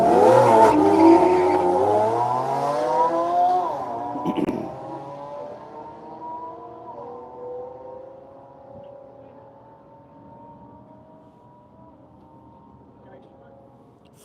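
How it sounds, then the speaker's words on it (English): A BMW M3 and a Porsche drag race down a strip at a One Lap of America event, their engines roaring loudly and rising through the gears before fading into the distance, mixed with crowd or announcer chatter. "We got Danny Corliss in his M3 versus Tim Curl in his Porsche."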